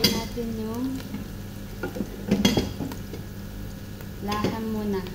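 Chunks of mutton meat hit a hot pot for a Filipino nilagang karnero, giving a steady sizzle with stirring scrapes and a few louder clatters, close and moderately loud, with a voice speaking intermittently over it.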